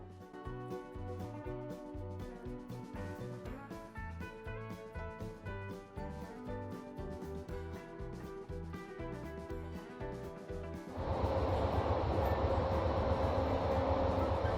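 Steady low rumble and rhythmic clatter inside a roomette on the moving Amtrak Auto Train, rising to a louder, broader roar near the end.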